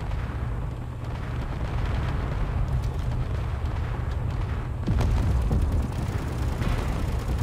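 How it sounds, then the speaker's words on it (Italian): Enemy ships and turrets blowing up in the video game Space Engineers during an assault on a tower defense, a rumbling barrage of heavy booms and blasts that runs continuously, with a louder burst of explosions near the end. "Mamma mia, ragazzi, che esplosioni."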